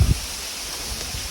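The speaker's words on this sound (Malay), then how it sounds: "Itu bunyi daun buluh bergeseran kan" Leaves of a bamboo grove beside a river rustle in the wind with a steady, soft hiss, opening with a brief low gust of wind against the microphone.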